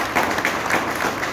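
An audience at a business seminar gives a short burst of dense clapping, steady and fairly loud throughout.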